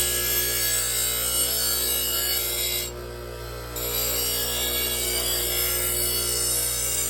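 Knife blade being sharpened on a Foley Belsaw 1055 Sharp All machine, a steady motor hum with continuous grinding hiss that drops out briefly midway, then resumes, close and alone.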